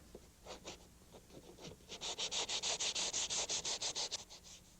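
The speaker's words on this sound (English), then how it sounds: "these sponge sanding pads work great then for cleaning out this groove" A sponge sanding pad scrubs out the glazing groove of a window sash before new glass is set: soft scratchy strokes at first, then a quick steady run of about fifteen rhythmic rubbing passes, close and fairly quiet.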